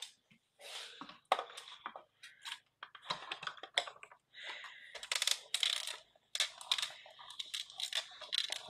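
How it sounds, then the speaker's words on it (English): Paper dies being cut in a die-cutting machine for Stampin' Up! card making: a series of close crunching, clicking bursts as the plates roll through, irregular and fairly loud, with no talking. "let's cut all of those dies out"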